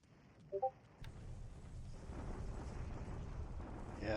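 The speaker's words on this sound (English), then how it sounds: "these are just the daily bombardments" Bombardment explosions in the war strategy game War in the Pacific, a low rumbling blast that starts abruptly and grows into a sustained, building roar, preceded by a couple of brief tonal blips.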